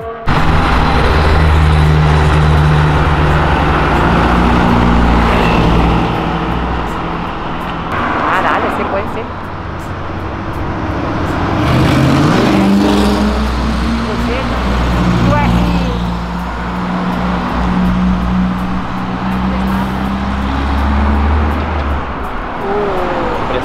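A BMW M5 drift car's engine drones loud and continuous with rising and falling revs, heard close under a steady stream of people talking.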